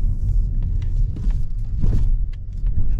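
Inside a 2021 Mazda3 Premium AWD hatchback as it pulls out onto the road, with a low, steady engine and road rumble and a few light rattles and clicks from the cabin.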